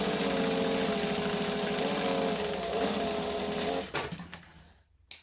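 Sewing machine running steadily, stitching pieces of fabric together for garment alterations with a joining stitch; a loud continuous whirring run that slows and stops near the end, followed by a brief clunk.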